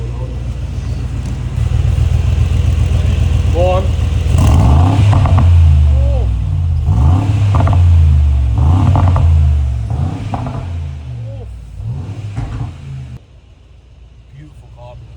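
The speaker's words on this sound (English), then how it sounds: "Let's do a sound test on the G63." Revving engine of a Mercedes-AMG G63 with an Urban body kit, tuned to 750 bhp, rising and falling in repeated loud throttle blips close by, with people talking over and between the revs.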